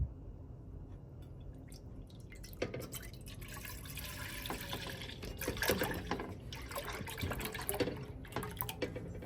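Milk pours steadily into a pot while custard is made with rice flour, a continuous liquid splashing and trickling that grows fuller and louder partway through, with faint kitchen background and no talk.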